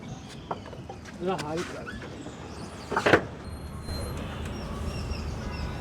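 A truck cab is opened up to reach the engine under the seat, with scattered clunks, a creaking slide and a sharp metallic latch or hinge sound near the middle, over low background noise and a voice.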